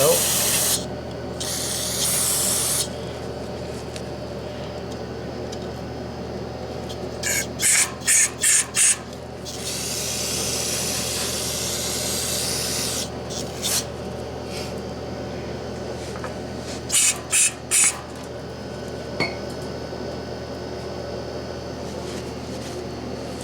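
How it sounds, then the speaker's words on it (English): Aerosol spray cleaning dirty oil burner parts during a yearly service, several short hissing bursts in pairs and fours, loud and close, over a steady mechanical background. "We'll spray it out."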